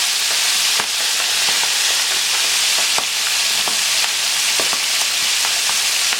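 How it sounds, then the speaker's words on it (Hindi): Chicken pieces frying in hot oil over a high flame, a loud continuous sizzle with occasional crackles and pops throughout. "फ्लेम को आप हाई पे रखेंगे और पहले इसकी एक साइड को फ्राई हो जाने दें।"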